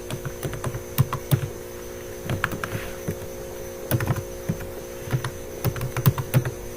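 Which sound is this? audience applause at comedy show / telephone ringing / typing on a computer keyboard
typing on a computer keyboard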